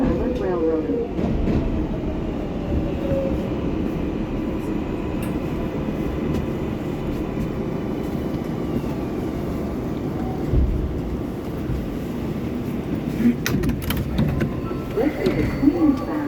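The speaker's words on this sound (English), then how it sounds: "This is a Queens-bound 7 local train" An R188 car on the Queens-bound 7 local subway in New York rumbles steadily along the track, a continuous loud interior rolling roar with squealing wheel tones near the end and some talk mixed in.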